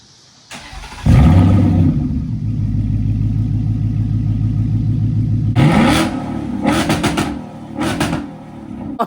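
A Ford Mustang GT S650 V8 with no exhaust fitted warm-starts with a sharp crank and loud bark, settles into a raw, rumbling idle, then snaps through a few quick revs before easing back.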